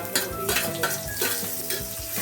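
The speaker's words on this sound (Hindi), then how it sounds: "अभी हम लहसुन डाल देते हैं।" Garlic sizzles in hot oil with cumin in a pan, a steady close frying hiss broken by a few scrapes and clinks of a stirring utensil, with no voices.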